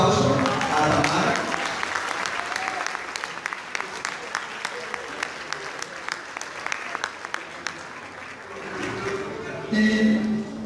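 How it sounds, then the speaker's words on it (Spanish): An audience applauds warmly for a young violinist after a Dvořák Humoresque performance. The dense, even clapping lasts several seconds and fades near the end, when a voice begins speaking. "¿por qué no damos un fuerte aplauso a Tamara?"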